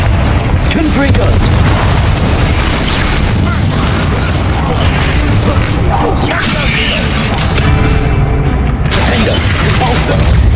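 Spell explosions from Confringo bursting in a Hogwarts Legacy fight, loud dense booms and crackling blasts layered continuously with game effects and music across the whole stretch.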